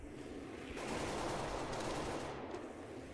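Automatic gunfire in Counter-Strike: Global Offensive on the de_cache map, a dense continuous burst of rapid shots that grows louder midway and stays steady throughout, with no talk over it.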